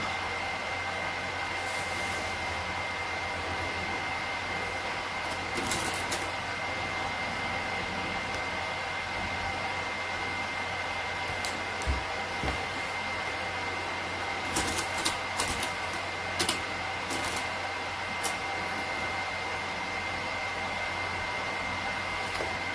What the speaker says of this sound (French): on va venir coudre simplement au point droit ici, ici en dessous, de l'autre côté